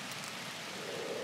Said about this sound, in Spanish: Mira más que llueve